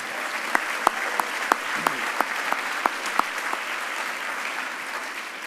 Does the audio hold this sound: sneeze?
no